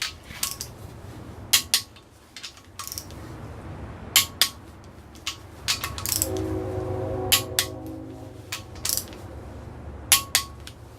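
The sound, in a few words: torque wrench tightening ARP main studs on GM 6.5 engine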